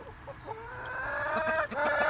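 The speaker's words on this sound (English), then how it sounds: "I saw them eating bugs yesterday, Molly, being happy chickens." Chickens cluck and make short rising, squawking calls close by, with several overlapping birds growing louder over about two seconds.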